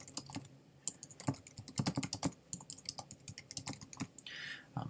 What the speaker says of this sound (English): you can simply type your message,